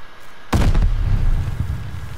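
A sharp burst of gunfire in a shooter video game's hardpoint match, a sudden loud crack followed by rumbling echo and a second smaller hit, with no talking.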